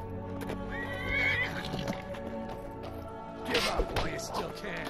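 Horse Shadowmere in the video game Skyrim neighs and whinnies during a fight, with hoof clip-clops and thuds amid game music and combat noise.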